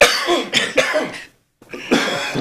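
A person coughs repeatedly in rough, raspy bursts, breaks off for a short silence, then coughs again.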